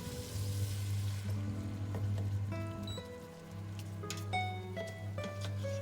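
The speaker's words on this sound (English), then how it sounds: "And then you're going to keep it and saute it for 5 minutes" Beans and rice being sautéed in a pan, a soft, fairly quiet sizzle under steady low hum and clinking utensil sounds, no one speaking.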